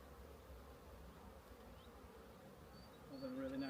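Honeybees buzzing around an open hive during an inspection: a faint, continuous drone with a brief closer buzz of a single bee passing near at the end.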